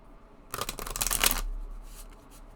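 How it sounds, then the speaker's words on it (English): A crisp burst of oracle card deck shuffling, rapid riffling flutter for about a second, then fading into quiet room tone. "And very nice shuffling."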